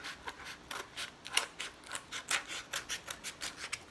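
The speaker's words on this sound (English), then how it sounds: "And then what you can do is trim this off." Scissors trimming paper along the edge of a cardboard backing for rock art, heard close up as a series of short, regular snipping and rasping cuts with no talking.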